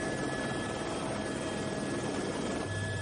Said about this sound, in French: difficile d'échapper à la traque de l'hélicoptère